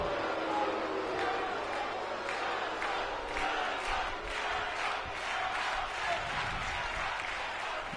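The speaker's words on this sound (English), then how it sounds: "the WWE Universe have clearly made their decision on who they're cheering for" Arena crowd cheering and applauding in the WWE 2K23 wrestling video game during a SmackDown match with Tommaso Ciampa, a steady loud roar of voices and clapping throughout.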